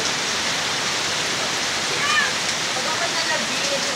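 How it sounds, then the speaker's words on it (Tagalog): Heavy rain in Batangas pours in a dense, steady hiss, loud and unbroken throughout, with a faint bird-like chirp partway through. "Lakas ng ulan."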